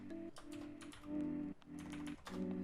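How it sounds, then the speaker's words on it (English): Keys clatter on a computer keyboard during a software modelling tutorial, a close, steady run of quick clicks in short bursts with brief pauses between them, no talking. "So I will type here from 0 to,"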